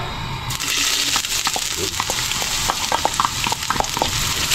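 Ginger frying in a pan until golden brown gives a steady close sizzle with scattered crackles and pops. It starts abruptly and continues without speech.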